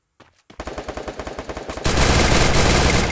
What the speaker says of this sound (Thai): เราจะใช้ปืนพกยิง เออฆ่ามัน